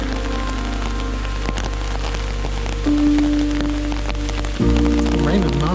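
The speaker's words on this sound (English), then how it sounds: "It's been raining on and off for several hours." Rain falls steadily on surfaces outdoors at dusk near a chicken coop, a constant patter mixed with a low hum and a few mechanical tones.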